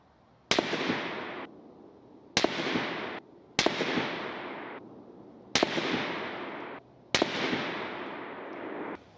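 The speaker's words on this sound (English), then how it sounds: "I removed the suppressor and fired a 5-round group to see how much the zero shifted suppressed versus unsuppressed" A 7.62 rifle without its suppressor fires five rounds of 168-grain Hornady ELD Match at a 100-yard range, five sharp, loud cracks spaced roughly 1.5 seconds apart, each followed by a decaying echo.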